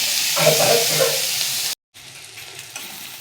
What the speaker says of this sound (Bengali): তেল পেঁয়াজ টমেটো একসঙ্গে আগে একটু কষিয়ে নেবো ভালো করে।